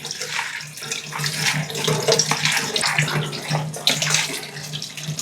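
Running water rinses freshly chopped cabbage in a steady, close splashing stream that carries on throughout with no voices over it.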